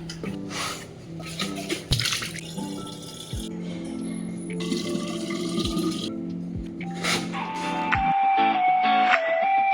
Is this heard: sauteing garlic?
no